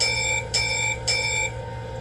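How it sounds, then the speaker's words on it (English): Three evenly spaced metallic bell strikes from an LGB Stainz model locomotive with Zimo sound ring out, each followed by a bright sustained tone, over a steady low electrical hum. "F1 is the bell."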